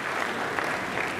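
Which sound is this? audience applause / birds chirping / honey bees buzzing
audience applause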